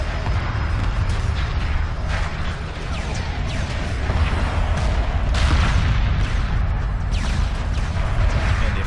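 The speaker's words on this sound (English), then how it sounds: "I watched an explosion up close." Continuous explosions and booming weapon fire from a space battle in the strategy game Homeworld Remastered, loud and dense throughout with layered blasts and rumbling impacts.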